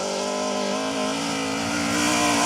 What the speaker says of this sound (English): What a cracking looking and sounding car that Mark II Astra is